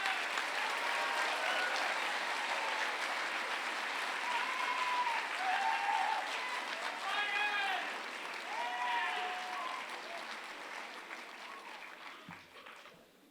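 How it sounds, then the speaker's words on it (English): Audience applause at a senior awards ceremony honoring student award winners, a sustained crowd of clapping with some cheering voices, gradually thinning toward the end. "Let's give them all a round of applause."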